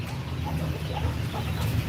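A young white hen broods on her eggs, giving low, soft clucking murmurs in a steady close hum, with no talking.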